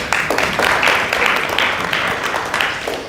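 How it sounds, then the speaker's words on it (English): People at a regional planning forum on re-entry services applaud Marsha Charles, a fairly loud round of clapping with uneven swells that carries on steadily throughout. "So a round of applause goes out to Marsha Charles."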